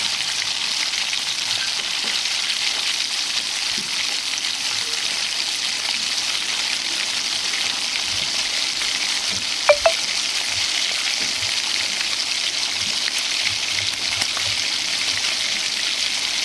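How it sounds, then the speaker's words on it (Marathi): Garlic frying until reddish in a kadhai, a loud, continuous close-up sizzle that holds steady throughout with only a couple of faint knocks. "लसूण आपला चांगला लाल परतत आहे"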